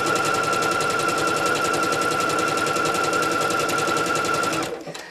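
Sewing machine running fast and steady while stitching potato sack fabric, a dense rapid clatter with a constant motor whine, close and loud, cutting off near the end.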